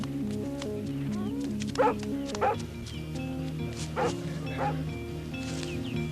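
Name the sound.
dog barking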